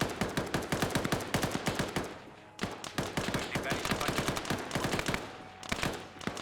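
Video game machine-gun bursts from a BTR turret, rapid, loud, dense automatic fire in long strings with a brief pause partway, plus a faint voice in the background.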